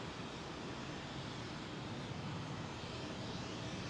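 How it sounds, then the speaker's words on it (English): An American Airlines Boeing 777 with Rolls-Royce Trent 800 engines roars overhead on departure from Heathrow runway 09R, a steady, broadband jet rumble heard alone. "That's the Trent 800, I think, on those American triples."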